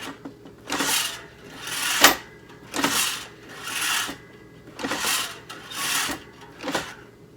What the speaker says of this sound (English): we are ready for that final crimp